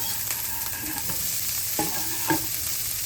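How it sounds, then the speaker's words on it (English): Bell peppers and onions frying in a hot pan give a steady, close sizzle, with a few sharper crackles and stirring clinks scattered through it. "My pan is nice and hot, and I'm just gonna add those bell peppers and onions"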